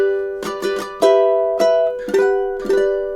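Low G ukulele plucking the opening two measures of the Nutcracker March, a handful of bright, close chords and single notes in a bouncing march rhythm, each ringing and fading before the next.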